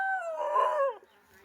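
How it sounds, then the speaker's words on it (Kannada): A village dog gives one drawn-out, wavering howl-like cry lasting about a second, close and clear, then fades into quiet. "ನಿನ್ನ ನಾಯಿಗಳೆಲ್ಲ ಬೊಗಳ್ತಾವ"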